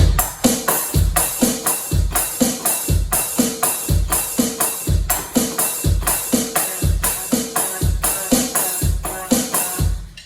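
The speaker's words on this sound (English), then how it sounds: "It probably won't sound as good on the electronic drum kit, but let's see how it sounds." A steady drum groove on an electronic drum kit with a punchy kick and snare, bright offbeat hi-hat hits landing between the beats, loud and close, repeating evenly throughout.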